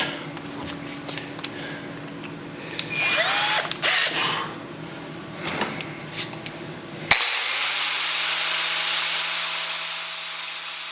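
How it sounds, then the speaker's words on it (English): A bench grinder sharpens a tungsten electrode right after TIG welding on a cast aluminum housing. It starts abruptly partway through and runs as a steady, loud, close whirring grind to the end. "now grind the tungsten as soon as I stop the weld"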